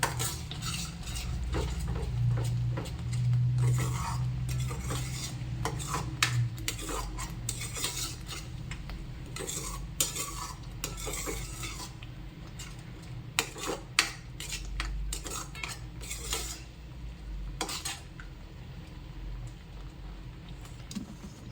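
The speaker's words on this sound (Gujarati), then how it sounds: "હવે બધું બરોબર મિક્સ કરી લઈશું." Paneer butter masala being stirred in a pan, with repeated scraping and clinking of a spoon against metal over a low steady background, close and continuous with no talk.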